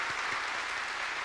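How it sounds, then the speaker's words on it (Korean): Steady applause from a church congregation during a Sunday service, an even wash of clapping that holds throughout at moderate, somewhat distant volume. "영광의 박수를 한번 드리면"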